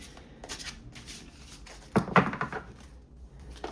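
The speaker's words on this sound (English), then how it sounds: "I'm gonna have to shuffle it a little different" Tarot cards being shuffled by hand in a soft-spoken setting: a run of close papery riffles and slides, with a louder burst of flicking cards midway, no talking.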